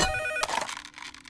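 A cheese-shaped phone in a Teenage Mutant Ninja Turtles cartoon rings with a bright electronic trill that cuts off into a clattering pickup, loud and close.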